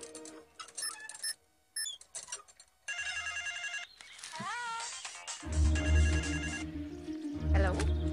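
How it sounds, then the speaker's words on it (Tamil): A telephone rings in a Tamil movie scene: bright electronic ringing tones come in repeated bursts, mixed with people talking and a louder low hum building toward the end. "மது, சித்து, என்ன ஃபோன்?"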